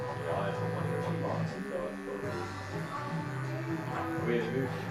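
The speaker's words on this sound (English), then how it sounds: "Using just the edge of my clipper to go around the ears so it sort of tapers it out again." An electric hair clipper buzzes steadily as a barber tapers a neckline and edges around the ears, a close, continuous hum with shifting pitch as the blade moves, with voices under it.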